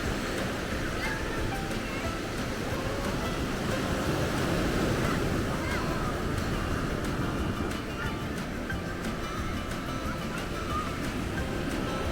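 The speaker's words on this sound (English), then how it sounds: "Taking a walk on the beach in Carlsbad." Ocean surf rolling onto the beach at Carlsbad, California, a steady broadband wash of breaking waves with some wind noise, continuous and fairly loud throughout with no talk.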